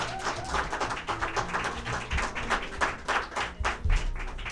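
Applause from an audience at a television station's HD launch event, dense, steady clapping that fills the whole stretch with a few louder bursts, heard on its own without talk.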